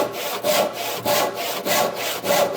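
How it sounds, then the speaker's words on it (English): A hand saw cuts through wood while building a workbench, the saw held in the kerf to keep the cut square; steady back-and-forth strokes repeat about every half second, close and clear with no talking. "I'm keeping my saw in the kerf to keep it square"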